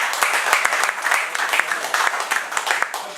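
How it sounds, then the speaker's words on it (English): A small group at a general meeting applauds a new member, giving a short burst of dense, close clapping that stays fairly even for a few seconds. "applause for our new member"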